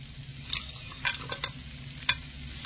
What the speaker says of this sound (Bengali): নেড়ে ছেড়ে ভালো করে গুড়টা গলিয়ে নেব, নারকেলটা ভাজা ভাজা করে নেব